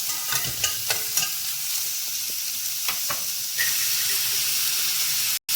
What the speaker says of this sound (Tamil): போட்டுட்டு நல்லா வதக்கிக்கோங்க